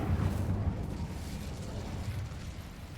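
The Incendio fire spell goes off in Hogwarts Legacy, a short, low whooshing blast that fades into a rumbling hiss over a few seconds.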